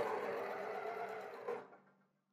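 An overlock sewing machine stitches stretched elastic, its motor giving a steady fast whir that runs evenly, then slows and winds down to silence near the end.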